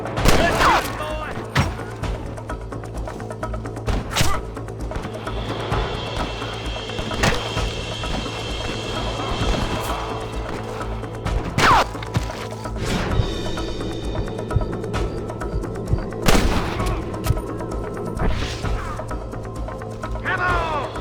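Rapid bursts of gunfire and sharp impacts in the Western video game Red Dead Redemption, scattered shots cracking throughout under shouted voices and constant background music.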